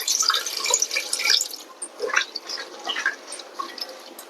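Water poured into a pot of mutton for cooking, a steady splashing, trickling pour with irregular drips close by, heard alone without talk.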